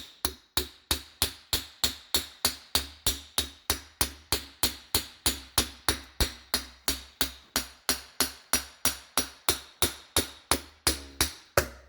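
Steady, evenly spaced metallic hammer taps ring out on the wheel hub of a 2012 Subaru Impreza, about three per second, close and clear with no talking.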